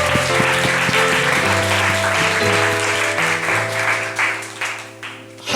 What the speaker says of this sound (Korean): 그 가장 큰 박수를 경배합니다.